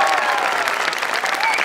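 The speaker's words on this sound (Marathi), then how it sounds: "अंशुमन विचार, एकदा जोरदार टाळ्या." Dense audience applause on the Maharashtrachi HasyaJatra comedy show stage, a brief, loud, continuous burst of many hands clapping.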